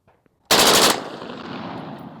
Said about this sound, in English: if you want to do 2 trigger pulls, it'll be the 3 rounds and then the 2 rounds